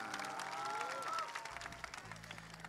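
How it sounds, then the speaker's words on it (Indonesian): An audience at an Indonesian religious talk applauds a guest speaker. The clapping is faint and distant, with voices mixed in. "Tepuk tangan untuk Bu Khofifah."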